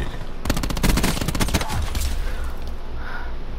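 Gunfire in Call of Duty Black Ops 4, a rapid automatic burst of closely spaced shots that begins sharply and rattles for about a second, then trails off into lighter scattered shots and game ambience.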